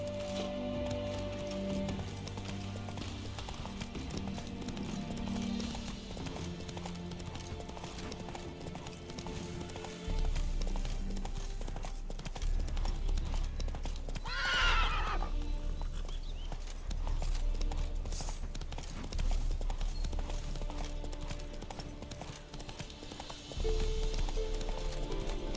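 Roach, a horse in the video game The Witcher 3, gallops with steady, rapid clip-clop hoofbeats throughout, accompanied by a brief neigh midway over low background game sound.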